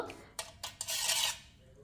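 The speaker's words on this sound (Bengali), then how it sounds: "এই নুনটাকে ভালো করে চামচ দিয়ে এভাবে গলিয়ে নেব" A spoon stirs salt into warm water in a bowl, with a few quick metallic clinks followed by a brief swirling scrape, faint and close.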